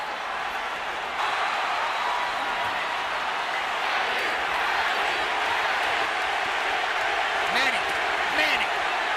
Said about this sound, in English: And the crowd picks up the chant. Manny.